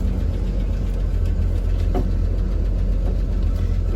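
A 1978 Ford F-150, run again after sitting for 28 years, idles steadily and loudly up close with a deep, continuous rumble and a faint knocking beat, with no voices over it.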